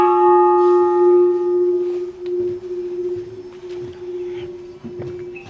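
A church bell in the old town of Chiang Mai, Thailand, rings with a sustained, resonant hum that lingers and fades slowly, heard alone in quiet street ambience during the Songkran new year season.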